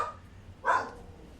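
A single short dog bark rings out in a home, fairly close and clear against a quiet room background, with no one talking.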